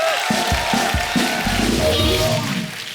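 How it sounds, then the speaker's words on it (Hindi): A studio audience at a comedy talk show applauds and cheers to welcome a guest, a full, busy burst of clapping with scattered shouts that fades slightly at the end. "शक्ति साहब के लिए एक बार जोरदार तालियां हो जाए।"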